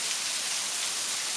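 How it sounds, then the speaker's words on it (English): Heavy rain pours down steadily outdoors, with water beginning to flow along a road; a dense, continuous hiss of rainfall holds throughout with no gaps and no voices. "This is a lot of rain."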